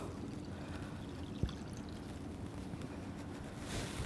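Warm water is poured into a bowl of focaccia dough ingredients, giving a steady soft trickling flow with one small knock partway through, fairly faint and close, with no voices.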